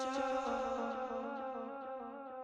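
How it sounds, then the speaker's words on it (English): A vocal line heard only through its delay throw, Echo Boy and dual echo repeats trailing off in a remix, with the sustained tone fading gently across the bar. "every word I want to delay throw, you only hear the delay. So it sounds like this"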